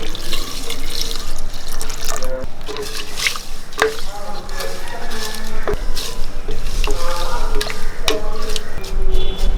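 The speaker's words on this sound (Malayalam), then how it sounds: "ഇനി പയർ വേഗം ആവശ്യമായിട്ടുള്ള വെള്ളം ഒഴിച്ചു കൊടുക്കാം" Water pours and splashes into a pressure cooker of green gram (mung beans), a continuous loud gush with drips and clatters of the vessel, no voices.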